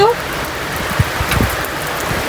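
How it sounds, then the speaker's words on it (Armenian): Hail and heavy rain pelt down steadily in a storm, a dense close rattle with a few sharper impacts, while a person speaks over it. "ոնց որ թե կարկուտ էլ ա խփում"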